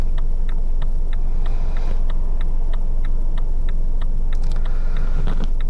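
A car engine idles at a junction on a cold day, a steady low rumble inside the cabin with a regular ticking of the indicator running throughout.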